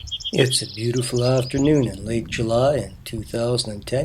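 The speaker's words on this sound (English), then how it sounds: "You can hear the lark sparrows singing in the background" Lark sparrows trill and chirp faintly in the background on a late July afternoon near Leader, Saskatchewan, their thin high notes mostly buried beneath someone speaking close to the microphone.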